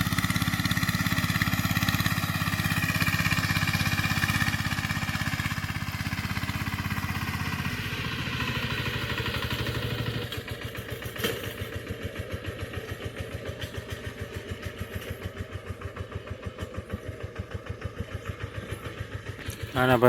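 A tractor engine chugs steadily while building field embankments, then a fast rhythmic putter takes over in the second half, heard at close range.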